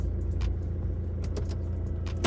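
A car engine idles with the handbrake pulled on, a low steady rumble close by, broken by a few light clicks and rattles of handling inside the car, with no one speaking.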